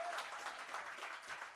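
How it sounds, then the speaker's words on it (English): Clapping continues from a crowd at a workshop and expo in Khayelitsha, a dense, fairly soft and even patter of many hands. "Let's keep clapping."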